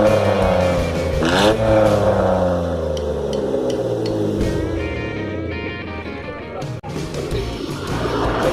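Mitsubishi Mirage fitted with an Alpino JS Racing HKS exhaust revving hard in repeated throttle blips, the engine note rising and falling loudly and close throughout.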